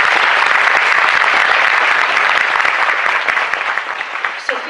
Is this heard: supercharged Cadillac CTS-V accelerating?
no